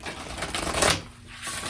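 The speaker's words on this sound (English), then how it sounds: "just like shuffle the deck, get the cards mixed up" A deck of oracle cards is shuffled by hand, giving a dense, rapid riffling flutter that swells to a louder burst and then briefly thins out. The sound is close, with no voices.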